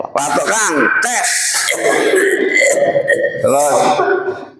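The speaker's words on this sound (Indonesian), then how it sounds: "ayo batuk yang keras" A man coughs forcefully and clears his throat several times in a loud, close burst, amid a spoken prayer-like healing session, with voices talking around the coughs.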